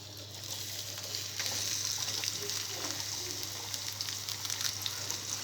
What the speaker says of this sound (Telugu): జీలకర్ర కొద్దిగా ఫ్రై అయిన తర్వాత ఇందులో ఉల్లిపాయ ముక్కలు,